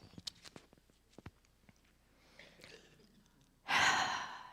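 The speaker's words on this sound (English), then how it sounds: "So let's all take a breath." A congregation at a Wednesday church service draws a breath together; a quiet room with faint shuffles gives way to one loud, broad exhale near the end.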